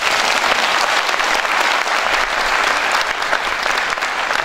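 A large crowd at a speech rally claps loudly and continuously, a dense wash of hand claps holding steady without pause from start to finish.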